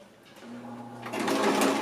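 Sewing machine running a seam on a bag, a steady motor whir that grows louder and busier in the second half, close and alone with no talk.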